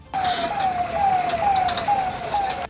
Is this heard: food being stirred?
no